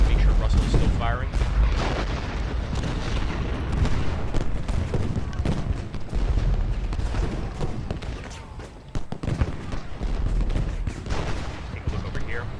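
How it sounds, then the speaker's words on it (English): Massed infantry gunfire from the Ultimate General Gettysburg video game, a continuous rolling fusillade of rifle volleys and booms with a voice talking over it. "make sure Russell is still firing"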